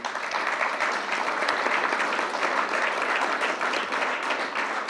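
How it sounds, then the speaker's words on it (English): Conference audience applauding presenters and moderators at a hydropower session in Brussels, an even, sustained wash of clapping from a room full of people, fairly loud and uninterrupted. "I think we can applaud everybody."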